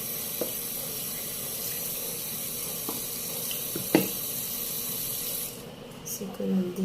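Water is poured into a small potted plant indoors as a steady running trickle that continues for several seconds and then stops. A few faint knocks are heard, and a voice briefly speaks near the end.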